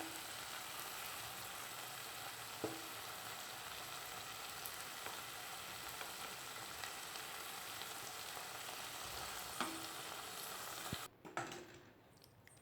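Ground paste of shallots, green chillies, coriander and mint sizzles in hot oil for a vegetable biryani. The frying hiss stays steady and close, with a few small pops and a brief stir or clatter near the end.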